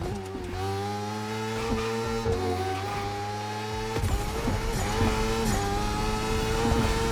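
A motorcycle engine in a racing video game winds up hard toward top speed, a steady loud rising whine with gear-change dips, continuous and alone with no talk.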